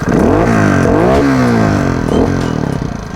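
A Beta four-stroke trial motorcycle engine revs loudly and up close, its pitch climbing and falling through several quick blips before settling back.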